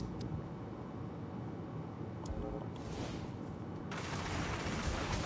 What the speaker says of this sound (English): Press R1 to launch an even wider barrage of concrete.